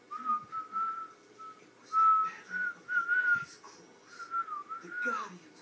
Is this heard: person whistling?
yes